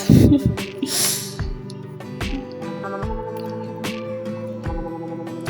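Asaana, a Ghanaian local drink, boils in a pot over a coal pot, with repeated wet drips, bubbling pops and squelching bursts close by. A tonal hum runs steadily underneath and a hissy swell rises near the start.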